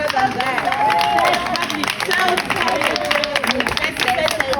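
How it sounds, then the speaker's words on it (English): An audience claps together at a business and sales seminar, honoring a best-selling author with a dense, sustained round of applause. The sound is steady and fairly loud, and a voice is heard through the crowd noise. "Let's clap hands for the best-selling author."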